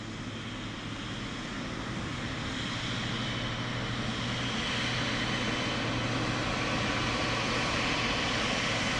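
An Emirates airliner at Dublin Airport produces a steady, distant engine roar that swells slightly and keeps going for the full stretch, with no talk over it.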